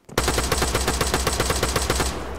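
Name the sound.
machine gun fire in video game Arma 3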